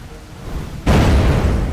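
A cannon shot in the space game Holy Potatoes! We're in Space?! lands as a sudden loud boom, then a sustained rumbling explosion after a quieter lead-in.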